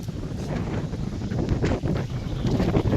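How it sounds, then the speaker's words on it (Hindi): Strong storm wind roars outdoors as a dense, steady rush with gusty swells and buffeting against the microphone, filling the whole stretch without a break. "अभी देखिए कितनी तेज हवा चल रही है और बाहर बहुत तेज आंधी आई हुई है।"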